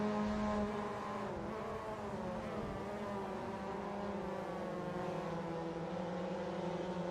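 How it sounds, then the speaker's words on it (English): A Mazda NA MX5 race car engine in a racing video game at Slovakiaring drones steadily with layered harmonics, holding a sustained note with slight pitch dips as it runs, close and continuous with no talk. "So we can hear the engine of Sam behind"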